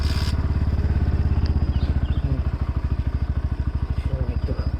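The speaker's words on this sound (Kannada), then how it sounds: "ಈ ಬೈಕಿಗೆ ಕಿಕ್ ಕೊಟ್ಟಾರ 160. ಕಿಕ್ಲೇನೆ ಚಾಲೂ ಮಾಡೋಣ್ರಿ" A 160 cc motorcycle kick-started and idling, its single-cylinder engine thumping in a fast, even rhythm, loud and close, with a brief clatter at the start.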